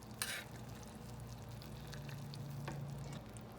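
A pot of chicken and dumplings bubbling steadily, with a soft continuous frying-like sizzle and a low hum, a brief clatter near the start and a faint tap later, close and moderately quiet.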